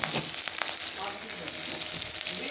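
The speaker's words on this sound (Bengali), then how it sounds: "এখন দিয়ে দেব কাঁচা লঙ্কা আর পেঁয়াজ কুচি।" Green chillies and chopped onion sizzle steadily in a hot pan, a dense, even frying hiss close up with faint stirring and no voices.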